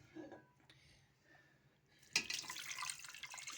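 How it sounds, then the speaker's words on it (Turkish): Water is poured into a cooking pot on a stove for Turkish chicken pilaf with onion and potato. It is a soft splashing pour that starts suddenly after a quiet lead-in and keeps running faintly to the end. "suyumuzu da koyuyoruz."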